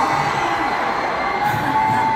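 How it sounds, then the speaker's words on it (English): A concert crowd at a K-pop world tour show at the Kia Forum cheers and screams continuously, forming a dense, loud, unbroken wall of shouting voices for the whole stretch. "if you cheer for us much more louder and much more enthusiastically"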